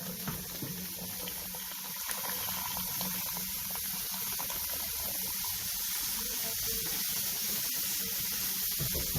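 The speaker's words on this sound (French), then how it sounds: "maintenant je vais rajouter un peu d'eau chaude que j'ai fait bouillir dans une bouillotte" Freshly boiled hot water is added to a pot of Haitian pumpkin soup, giving a steady close hiss and bubbling liquid wash that continues evenly throughout with no talking.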